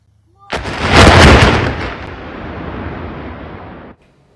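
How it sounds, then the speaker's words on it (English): A demolition blast brings down the historic I-70 Rocheport bridge over the Missouri River, a single loud, booming detonation followed by a long rumbling roar of the collapse that cuts off abruptly after a few seconds. "watch as an explosion brings down a historic Missouri bridge"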